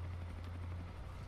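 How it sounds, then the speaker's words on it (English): A video game helicopter's steady low rotor drone thrums continuously, fairly loud and unbroken, with no voices. "I can hear the helicopter."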